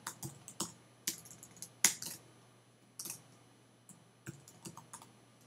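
Someone types on a computer keyboard with a handful of sparse, crisp key clicks and taps spaced irregularly over a few quiet seconds, close by, with no voices.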